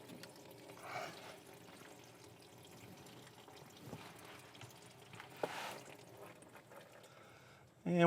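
CVT fluid drains from the 14mm drain plug of a Subaru in a low, steady trickle and pour that stays faint throughout, with a sharper clatter at the very end.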